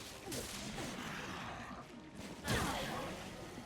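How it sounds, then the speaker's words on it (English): In Resident Evil: Revelations, a pulse grenade goes off with a sharp blast partway through, amid ongoing game combat noise, muffled booms and bursts, fairly loud and without speech. "Once again, I get very lucky with the pulse grenade there"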